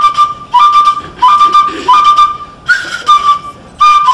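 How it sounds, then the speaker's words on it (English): Igbo flute melody at a cultural celebration in Canada, played in short repeated whistle-like phrases that start and stop with brief gaps, loud and close; the accompanying drum beats are not clearly evident. "the drum beats and the melodious sound of the flutist"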